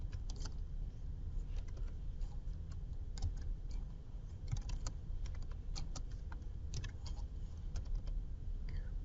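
Quiet, steady typing on a computer keyboard, with irregular soft key clicks over a low background hum and no talking.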